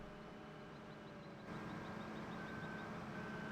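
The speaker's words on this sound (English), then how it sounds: "I just got a reversing beeper." Reversing beeper on a farm vehicle in Farming Simulator 15, a faint regular series of evenly spaced beeps over a low engine hum that grows slightly louder partway through.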